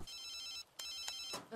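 A telephone rings with a bright, metallic electronic trill that comes in bursts separated by short gaps. It sounds fairly quiet and steady, with no voices over it.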